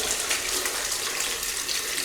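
Water runs steadily from a tap as hands are rinsed under it, a continuous close hiss and splash with no talking.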